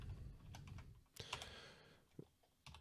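A few keystrokes tapped on a computer keyboard, soft close clicks in a short uneven burst with pauses between, quiet and alone.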